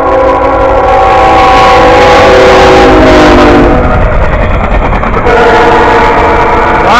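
A loud train horn blares in long sustained chords over the heavy rumble of a short intermodal freight train passing close by, the horn cutting out and sounding again.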